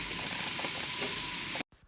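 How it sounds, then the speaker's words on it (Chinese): Diced radish stir-fried in hot oil in a wok gives a loud, steady sizzle with a dense crackle, close up and alone, cutting off abruptly near the end. "锅内倒入适量的食用油，下入萝卜丁翻炒。"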